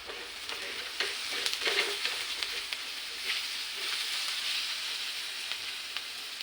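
Onions sautéing in a pan for onion chutney, a continuous soft sizzle broken by irregular spoon taps and scrapes as they are stirred, no talking.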